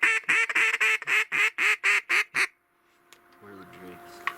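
Ducks on a waterfowl hunt quacking in a rapid, loud series of about ten harsh calls close by, followed by near silence with faint distant sounds.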